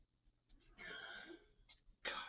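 A person sneezes, a faint breathy burst followed by a sharper sneeze near the end, close and quiet against a low background.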